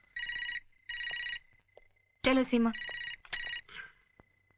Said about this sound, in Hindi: मैं फोन उठा नहीं माँ, मैं उठा लेता हूँ।